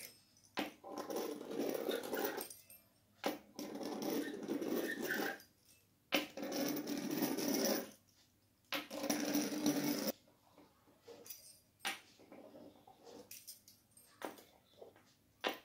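A knife slices through rolled-out manti dough on a board, giving soft scraping strokes in several separate bursts with quiet gaps between them, close and faint.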